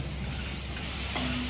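Herbs, dried oregano and other lasagna ingredients stirred together in a hot pan, a steady close sizzle and scraping stir that grows slightly louder toward the end, with no voices.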